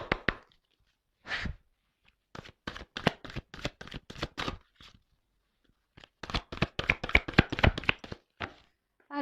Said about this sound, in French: Ah, les cartes, elles sont très grandes. Elles font presque la taille de ma main. Alors, c'est pas simple des fois pour les secouer.